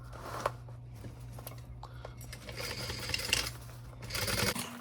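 A sewing machine runs steadily, stitching a fabric side seam with a quarter-inch allowance, its low motor hum continuous and close, with brief clicks and rustles of the cloth being handled.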